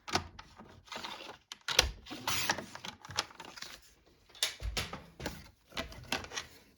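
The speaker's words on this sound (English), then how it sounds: "let's just trim the edge off slightly there" A paper trimmer slices the edge off an offcut of red card, giving close, uneven bursts of scraping and clacking as the blade is pushed along and the card shifts, with no talking.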